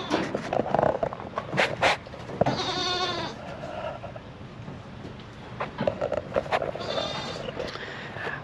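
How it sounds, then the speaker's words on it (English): Goats bleat in a few wavering bursts at a moderate distance on a meat goat farm, amid outdoor background noise and some brief voices. "So we got the goats up here."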